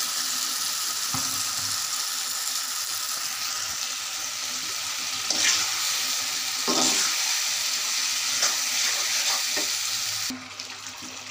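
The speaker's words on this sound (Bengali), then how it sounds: "এর মধ্যে আমি আমার শোল মাছগুলো দিয়ে দিচ্ছি।" Snakehead (shol) fish pieces sizzle steadily as they fry in a cooked-down spice masala, with occasional louder scrapes and clanks of stirring over the constant hiss.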